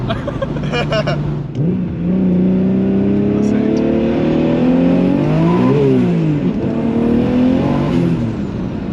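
A turbocharged car converted to a manual gearbox accelerates hard, its engine note climbing through rising pitch sweeps with a brief dip around a gear change, loud and close from inside the cabin, with a voice speaking briefly near the start.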